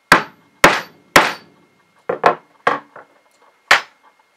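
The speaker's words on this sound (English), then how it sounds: "Start off a little lighter, just a few times with your rubber mallet." A rubber mallet strikes a hand setting tool for a spring snap in seven sharp, close knocks. Three come evenly spaced, then a quicker cluster follows, then a final blow, each cutting off quickly into silence.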